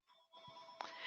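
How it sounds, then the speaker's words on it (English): A telephone ringtone chimes faintly in a quiet office, with its steady electronic tone swelling slightly over about a second and no voices. "Sorry about the phone."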